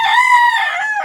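A rooster gives one short, loud, close crow, a bright rising-then-falling call lasting about a second with nothing else around it.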